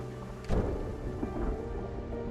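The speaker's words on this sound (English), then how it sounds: "Margaret sleeps on the sofa with the sound of the storm raging outside" A thunderstorm rages outside in Project Zomboid, a low rumble of thunder swelling under a steady wash of heavy rain, distant and continuous.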